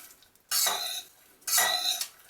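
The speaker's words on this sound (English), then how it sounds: "Stir this around." Two separate bursts of a utensil stirring sugar and popcorn kernels around in a pot for kettle corn, each about half a second of gritty scraping and rattling, close and clear, with quiet pauses between.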